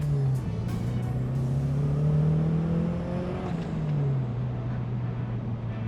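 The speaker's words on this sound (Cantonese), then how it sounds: "我今日揸呢架90年嘅944 Turbo" A 1990 Porsche 944 Turbo drives and accelerates, its engine a loud, steady drone that climbs and dips in pitch across the whole stretch, with no talk over it.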